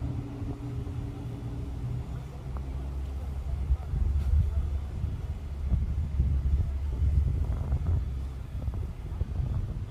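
Outdoor wind gusts buffet the microphone as a low, rough rumble that swells and eases over several seconds, with a faint distant engine-like drone underneath.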